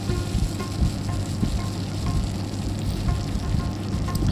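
Chopped onion and curry leaves fry in coconut oil with mustard seeds in a pan, giving a steady, dense sizzle with faint crackles and no voices.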